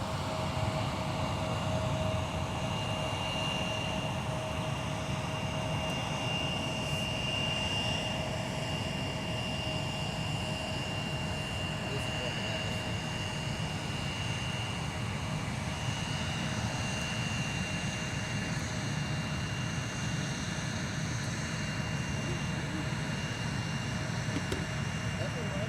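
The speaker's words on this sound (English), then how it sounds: "Coming in from Reykjavik tonight with the MAX 9." An Icelandair Boeing 737 MAX 9 inbound from Reykjavik approaches MSP airport, its jet engines a steady, broad roar that holds at an even level throughout, with faint tonal whine overhead.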